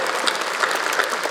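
Audience applause at a Hindi comedy poetry (hasya vyangya) show, a dense steady clapping from a large crowd that stays loud and even throughout the short burst, with no voices on top.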